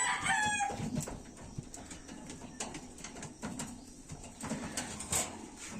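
Birds chirping and calling near and far, with some clucking and crowing-like fowl sounds over a busy outdoor background.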